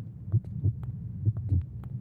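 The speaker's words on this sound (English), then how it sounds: "My heartbeat's still going, though" Game heartbeat sound effect in the horror game The Flight: steady thumping double beats, repeating about every second, moderately loud and alone with no talk.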